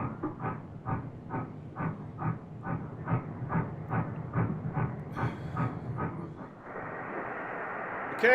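A train rolls past with a regular clickety-clack rhythm of wheels over rail joints, fading into a steady hiss near the end.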